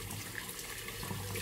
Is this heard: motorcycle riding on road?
no